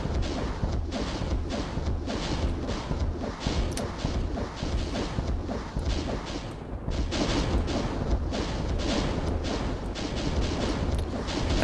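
Rockets firing and exploding in the first-person shooter ZDoom, a dense, continuous barrage of booming blasts and rumble that stays loud throughout.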